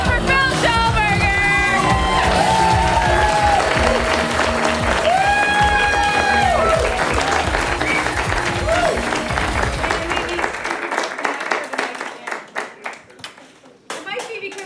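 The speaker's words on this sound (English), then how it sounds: "Give it up for Phil Schellberger!" Loud, dense applause with whoops and cheers from a crowd at a New Year's Eve stand-up comedy show as a comic is welcomed, mixed with music that drops out near the end as the clapping thins.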